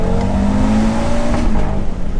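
An Audi RS3 engine holds high revs against the rev limiter, a loud, steady droning tone with slight pulsing and no voices.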